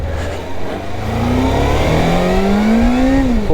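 Suzuki GSXF600 motorcycle engine revving up, a loud, close, rising whine that climbs steadily in pitch over a few seconds before dropping off sharply at the end.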